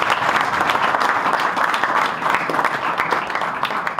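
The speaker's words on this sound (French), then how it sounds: "un grand applaudissement pour ces 3-là" An audience at a soccer academy recognition evening gives a hearty round of applause, with dense, even clapping from many hands that stays loud and steady throughout the short stretch.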